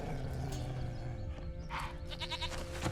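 A goat bleats in The Witcher 3: Wild Hunt, a few wavering, nasal cries rising midway through and repeating toward the end over steady ambient game sound and soft hoof-like clatter.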